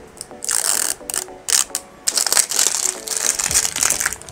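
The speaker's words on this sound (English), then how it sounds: "So, buksan na natin tong soothing gel nila." A skincare soothing gel container is opened with sharp plastic clicks, cracking and crinkling in quick bursts close to the microphone.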